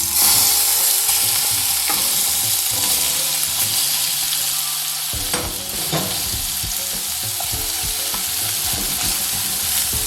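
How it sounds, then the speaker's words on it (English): Shrimp sauté in coconut oil over a medium flame, a loud continuous sizzle with stirring scrapes running through it, easing slightly partway through as the pan is worked. "I'm going to saute the shrimp quickly in some coconut oil."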